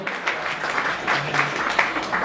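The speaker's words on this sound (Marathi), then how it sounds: "सो सागरसाठी एकदा जोरदार टाळ्या झाल्या पाहिजे" A crowd at a baby shower breaks into clapping, a continuous burst of scattered hand claps at moderate loudness with no one speaking over it.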